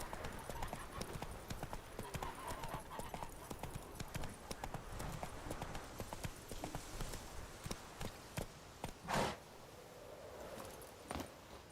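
Roach, a horse in The Witcher 3: Wild Hunt, galloping in a steady rapid clip-clop of hooves, with a louder snort or whinny-like burst near the end and no talk.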